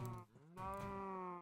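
A Minecraft cow gives a short low moo, then a longer drawn-out one, quiet and close, with no talk over it.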